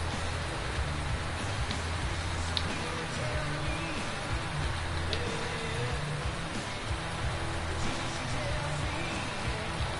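Steady rainfall in the farming game Farm Simulator 2019 makes a continuous, even hiss of drops on surfaces, moderately quiet and unbroken throughout, with no one speaking.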